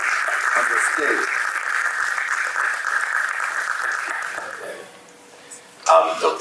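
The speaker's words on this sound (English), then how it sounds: "Please clap to welcome on the stage." A conference audience claps steadily to welcome a doctor onto the stage, a dense, sustained round of applause that fades out near the end before a brief burst of sound.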